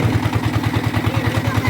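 A trawler boat engine runs steadily nearby, a loud, even low chugging with rapid regular pulses and a metallic clatter layered on top, holding constant throughout without any talk.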